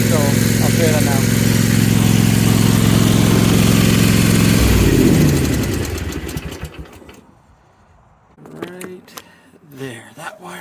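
A Toro Timecutter zero-turn mower engine runs loud and steady close by after its magnetic clutch is reconnected, then fades and drops away, leaving quiet and a voice talking near the end.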